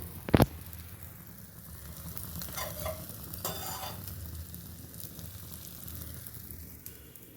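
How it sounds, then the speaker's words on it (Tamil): Banana paniyaram, a Tirunelveli specialty, sizzles steadily in the pan as it cooks: a continuous, fairly soft frying hiss with a sharp knock near the start and a few brief rustles. "இது கொஞ்சம் வேகட்டும் வெந்ததுக்கு பிறகு நம்ம திருப்பி போட்டு எடுத்துடலாம்"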